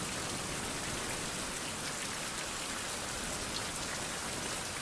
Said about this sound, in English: Rain. Medium wind.